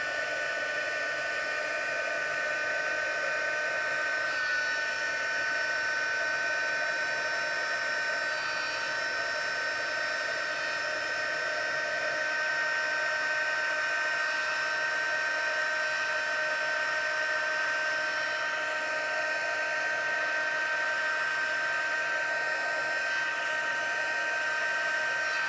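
A heat tool blows a steady, loud whine over a card coated with embossing powder, running unbroken and close-up for the whole stretch with no talk over it.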